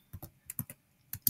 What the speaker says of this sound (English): So I'm just going to type in